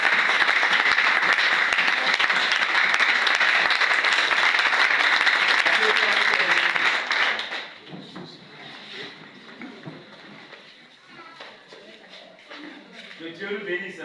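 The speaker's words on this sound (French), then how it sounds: "Est-ce que tu peux acclamer le Seigneur?" A church congregation applauds and cheers, loud dense clapping filling the room for about seven seconds before it thins out into scattered claps, murmurs and shuffling.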